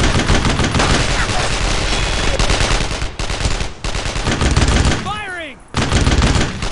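Rapid machine-gun fire and rifle shots crackle nonstop in the WWII shooter Brothers in Arms: Road to Hill 30, loud and close, with a short whistling lull before the barrage resumes.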